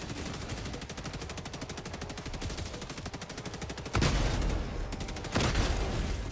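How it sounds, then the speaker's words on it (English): Rapid, sustained autocannon fire in the video game Helldivers 2, a dense stream of heavy shots that keeps up for several seconds and ends in two louder, booming impacts, with no talking. "Oh, I love this auto cannon thing."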